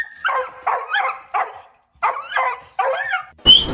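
A small dog barks and whimpers in a run of short, yippy bursts with brief pauses between them, then a sharper yelp at the end, close and fairly loud with no talk over it.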